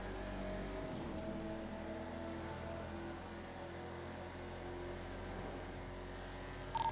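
Lamborghini Aventador fitted with a Murciélago exhaust in a video game, its engine droning steadily and loudly with low rumble throughout, a brief sharper burst right at the end.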